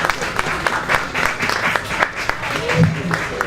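Audience applause at a LOTO90 lottery draw results ceremony, a steady patter of clapping from a moderate crowd, heard alongside a speaking voice over a PA.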